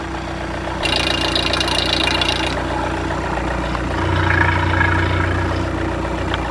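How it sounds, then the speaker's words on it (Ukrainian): Skoda Octavia A7 engine idling on a stand during a final test run before dismantling, a steady mid-low hum with a faint knocking texture and a brief rise in pitch later on, heard alone with no talk. "Зробив я останній запуск цього двигуна"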